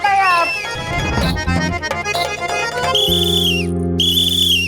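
A whistle sounds from inside a room, a steady tone with a long rising-and-falling shrill whistle over a sustained drone, with no voices.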